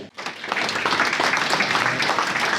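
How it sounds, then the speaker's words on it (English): An audience at an investor evening breaks into steady applause, dense and continuous clapping from many hands filling the room for nearly three seconds without pause. "big round of applause for Matt and Angelo"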